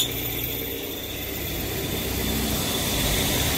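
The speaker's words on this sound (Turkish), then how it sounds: "debriyaj bilyası dağıtmış." A car engine with a failing clutch release bearing idles and produces a loud, steady rumbling drone with a grinding, rattly texture throughout.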